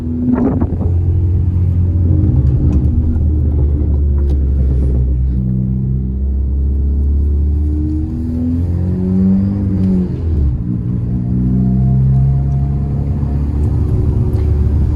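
A stripped-out, lightweight stage 3 Ford Fiesta ST drives with a loud, steady engine rumble close by inside the cabin, its pitch sweeping up and down through gear changes and throttle shifts.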